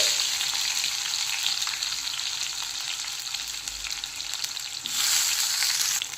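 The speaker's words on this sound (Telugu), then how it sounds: "ఇందులో కొంచెం సాల్ట్ ఇప్పుడు బాగా వేయించుకుందామండి" Eggplant pieces frying in oil with green chilies, a dense continuous close sizzle that swells louder near the end, with no talking.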